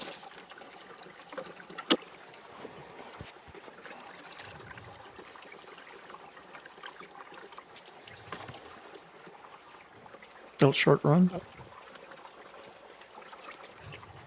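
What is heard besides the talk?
water running through a Mining Magnets cleanup sluice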